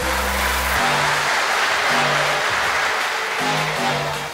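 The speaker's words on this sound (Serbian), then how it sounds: "Ajmo aplauz za Luku!" Spectators at a charity three-point shooting tournament applauding a young girl's basketball shot, a loud, sustained wash of clapping with low musical tones pulsing underneath.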